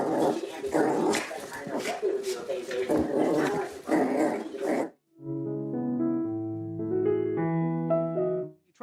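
A dog growls and snarls in rough, uneven bursts for several seconds, close and fairly loud, then falls silent while steady, sustained tones take over to the end.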